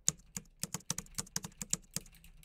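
Computer keyboard keys are tapped quickly and steadily at close range, a crisp run of about a dozen even clicks with no voices, while a video game is played.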